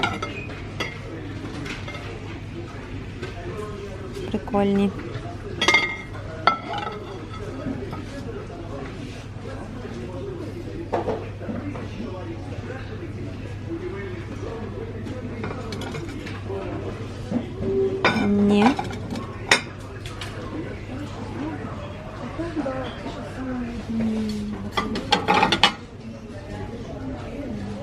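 Plates and dishes clink now and then as they are handled in a store, with scattered sharp knocks over steady background hum and someone talking.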